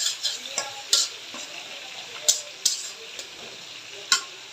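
Dried chepa shutki fish frying in a pan with onion and garlic, a soft steady sizzle broken by sharp spatula scrapes and clinks at irregular intervals, close and alone.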